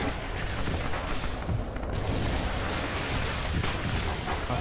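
Heavy booming blasts and gunfire from a Russia versus China team match round of a military shooter game, dense and continuous with repeated loud explosions throughout.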